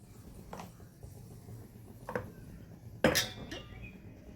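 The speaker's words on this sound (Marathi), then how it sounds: "अशा प्रकारे हे सगळं मिक्स करायचं" A spoon clinks against a bowl while salt, chili powder and dried mango powder are mixed for papad chaat, with a few sharp taps spaced apart, the last one loudest, close and otherwise quiet.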